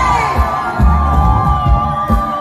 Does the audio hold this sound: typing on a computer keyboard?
no